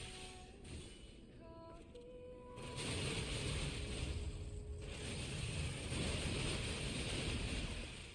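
A grinder weapon in a video game fires in a dense, steady mechanical grinding roar that kicks in partway through and holds loud to the end, after a quieter stretch with brief tonal game sounds.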